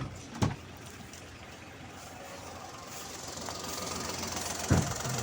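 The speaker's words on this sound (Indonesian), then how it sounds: "Yang kalau ada yang bilang kenapa suara mesinnya kasar ya, namanya 3 silinder ya" A 2009 Daihatsu Xenia Li's three-cylinder engine idles with a rough, steady drone that rises slightly over time, framed by two dull thumps near the start and end, with no voices.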